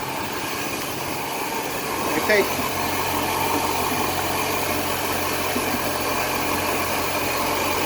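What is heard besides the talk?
boat inboard engine running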